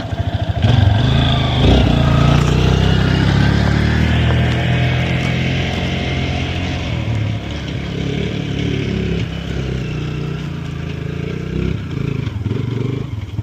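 Farm bike motorcycle engine labouring loudly and steadily up a steep dirt hill on a motocross outing, a close, continuous droning roar with slight rises and dips in effort throughout.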